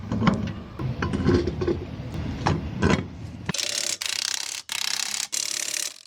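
Bolts on a trailer suspension being torqued after a front axle swap and spring replacement: close, rapid ratchet clicking, then louder harsh bursts broken by short pauses, with no talking.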